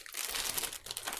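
Crinkly packaging is crumpled and torn open by hand during a crafts chat, a dense, close rustling crackle that runs almost continuously through the short moment with brief dips.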